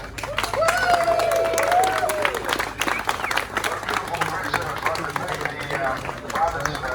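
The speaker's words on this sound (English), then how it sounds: "Let's have a big cheer for each other" Outdoor rally crowd outside the Russian consulate in Sydney cheering and clapping, a dense wash of applause and whoops lasting throughout, with a voice over a loudspeaker rising near the start.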